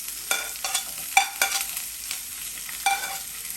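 Onion and coriander hitting a pan of spluttered mustard seeds, urad dal, chana dal and cumin during upma preparation, giving a steady close sizzle with several sharp bursts of frying and stirring scrapes.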